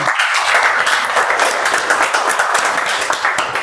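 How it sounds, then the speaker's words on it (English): Steady, dense applause from a meeting audience for a member from District 41 fills the whole stretch, loud and continuous without pause. "Huge round of applause for our member from District 41."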